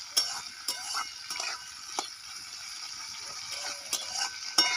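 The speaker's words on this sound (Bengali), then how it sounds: "তেলে একটু নেড়ে নিলাম ডাঁটা গোটা" Whole drumstick stems stirred in hot oil, a soft steady sizzle broken by sharp clicks and scrapes of the spoon against the pan, close and fairly quiet, no voices.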